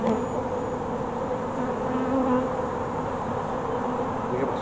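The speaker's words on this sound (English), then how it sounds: "The bees are kind of disturbed, obviously," Disturbed honeybees from a newly installed package buzz in a dense, continuous swarm drone, close and steady with no pauses.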